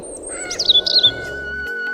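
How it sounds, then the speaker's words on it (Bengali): Birds chirp in sunshine after rain: a short burst of several quick, bright tweets in the middle, set against a steady tonal background with no talking. "টানা কয়েকদিন বৃষ্টির পর দেখা মিলল রোদ্দুরে পাখিরা যেন নতুন জীবন ফিরে পেল"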